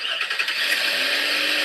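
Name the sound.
car engine starting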